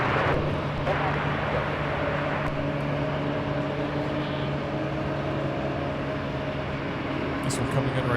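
A Southwest airliner arriving from San Jose approaches to land at Los Angeles International Airport. It makes a steady, even engine drone with low humming tones that holds for the whole stretch, with a voice talking quietly at times.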